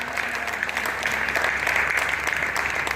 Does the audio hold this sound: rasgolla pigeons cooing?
no